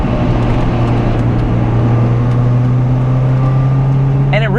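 Loud, steady engine drone from a 2000 Toyota MR2 Spyder, holding a sustained note throughout with a rising rev sweep at the very end.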